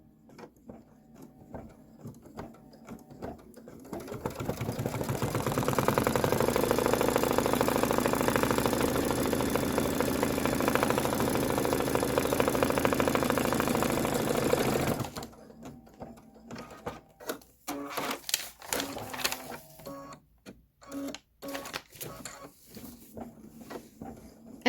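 An embroidery machine stitches a black window pane detail on a Kimberbell candy corn quilt block, a loud steady mechanical whirring for about ten seconds that then stops, leaving scattered clicks and handling noises.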